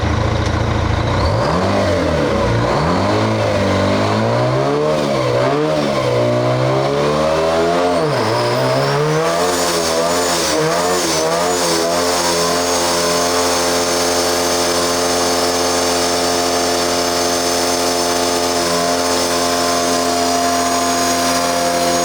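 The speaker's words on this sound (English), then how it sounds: "Roll that beautiful Burnout footage" A car doing a burnout on a fresh concrete pad, its engine revving hard in rising and falling sweeps, then settling into a sustained high roar with tire noise, loud and close, with no voices.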